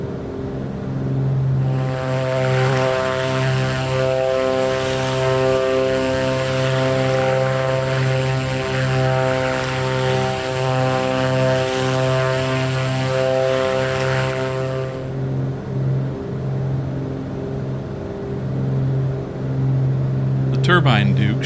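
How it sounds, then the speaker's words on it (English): A Black Square Beech Duke twin propeller plane drones steadily in flight over New Zealand's South Island in a flight simulator. The engine hum is loud and even, holds for about fifteen seconds, then drops to a fainter cabin rumble. "let's enjoy the sights of beautiful New Zealand's Southern Island, as well as the sounds of the Duke."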